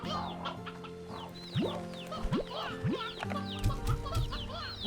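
Chickens cluck in the Slime Rancher 2 video game, several birds giving short repeated clucks and squawks close by over a steady layered backdrop of game music and ambience, with no talking.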